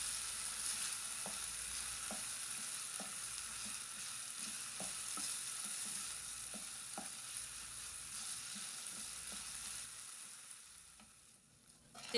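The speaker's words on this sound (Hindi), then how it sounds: "बिल्कुल लो फ्लेम पे इनको हम नरम होने तक अच्छी तरह से फ्राई कर लेंगे" Potatoes frying on a low flame, a quiet continuous sizzle broken by regular soft clicks of a spoon stirring them.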